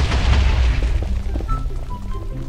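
A single loud explosion in Minecraft booms and rumbles, then slowly dies away into a low, scattered crackle.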